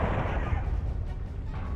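Incoming missiles explode in MechWarrior Online, a dense, loud, continuous low rumble of blasts rolling through the whole moment with no clear gaps.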